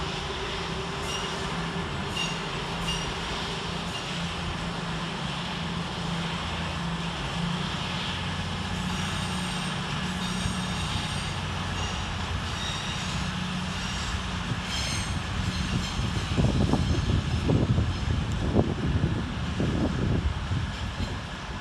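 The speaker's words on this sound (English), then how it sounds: "Departed over on the far side is 222008, working the 1205 East Midlands Railway service to Nottingham." East Midlands Railway Class 222 diesel multiple unit 222008 pulling out of London St Pancras on the far side, a steady engine rumble and rail noise building louder and rougher toward the end amid echoing station ambience.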